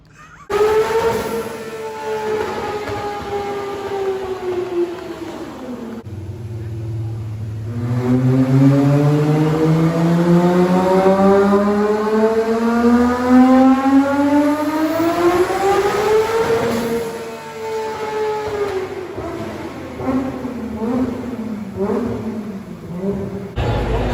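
A Toyota Supra engine revs hard to 8,000 RPM, its tone sweeping down, then climbing in a long rising wail, falling back and rising again in loud, sustained pulls close to the listener.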